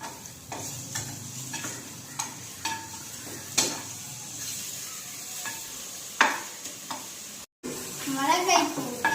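Tomatoes frying in a pan for a country-chicken dish, with repeated stirring scrapes and a light sizzle at close range, the strokes coming in irregular bursts.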